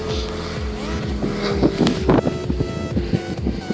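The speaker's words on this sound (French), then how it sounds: "il commence à avoir beaucoup de circulation là" Road traffic moves nearby: a rumbling, pulsing engine drone rises and falls against steady wind noise, with no voices.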